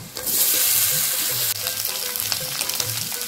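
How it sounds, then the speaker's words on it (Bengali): Boiled potatoes dropped into a pan with bay leaf, minced garlic and onion frying in oil, giving a loud steady sizzle with stirring scrapes throughout, no talking. "এখন দিয়ে দিব সিদ্ধ করা আলু"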